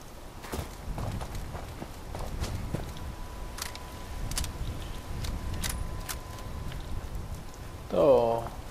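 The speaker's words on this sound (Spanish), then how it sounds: "Está lloviendo demasiado." Rain falls steadily in the Fallout 76 game world, a soft continuous patter under scattered footsteps and game sounds, with a brief voice near the end.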